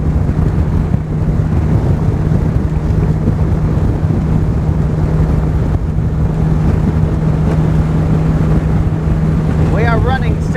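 Bass boat outboard engine running flat out at 61 mph and 5520 RPM on Lake Guntersville, a loud steady drone with heavy wind and hull-on-water rush throughout, and a few brief voice sounds near the end.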